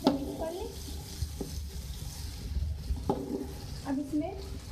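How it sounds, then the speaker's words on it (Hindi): Rice being stirred into aloo matar tahari in a cooking pot, with soft scraping strokes over a low frying sizzle and a few sharper clinks of the spoon, close by and fairly quiet; a voice is heard in between. "तो देखिए ये चावलों को डाल के तो अब अच्छे से मिक्स कर लें।"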